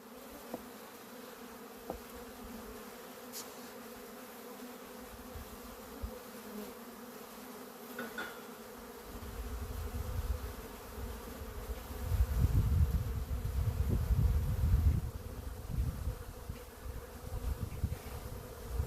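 Honeybees buzz steadily at a hive, a faint continuous drone that grows louder and fuller toward the end, with no talking.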